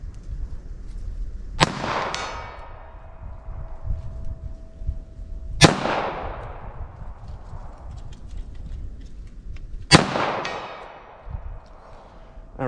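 Three sharp, loud .38 Special wadcutter revolver shots fired at an outdoor target, spaced about four seconds apart, each with a ringing decay and quiet pauses between.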